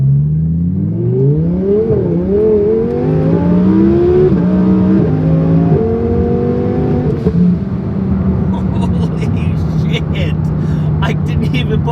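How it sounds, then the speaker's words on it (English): A twin-turbo Audi R8 engine revs hard and climbs in pitch through several gear changes, loud and close, with a steady rumbling drone afterward. "We're gonna do some pulls here as soon as the engine warms up."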